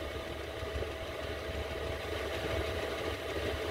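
A 5kW diesel heater runs inside a Toyota Hiace camper, giving a steady, even hum and low rumble with no break or change in level and no voices.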